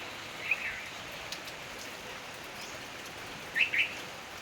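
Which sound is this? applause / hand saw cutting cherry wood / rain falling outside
rain falling outside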